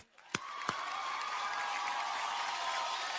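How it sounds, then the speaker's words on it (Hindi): An audience claps at the Reno Star Guild Awards at Prime Focus studio in Mumbai: a couple of sharp claps, then a dense, steady wash of applause that stays fairly faint and distant. "जोरदार तालियां।"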